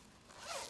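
A single soft zip on a paintball gun case pouch, a brief rising rasp that is faint and close with no talk.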